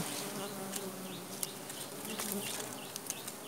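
Bees swarm around a wild honey nest during a harvest outdoors, a dense, continuous buzzing drone with occasional louder insects zipping close by, recorded fairly quietly.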